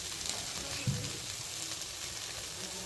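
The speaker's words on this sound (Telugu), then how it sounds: "ఇప్పుడు ఇది కూడా మళ్ళీ ఇంకొక 1 మినిట్ వేపాలండి" Meal maker soy chunks, mushroom and grated coconut frying together in a pan give a steady, close sizzle with a brief clink of stirring partway through, no voices over it.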